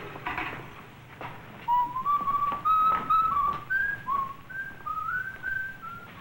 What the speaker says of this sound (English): Quiet, he says. And he's whistling all night. Old songs.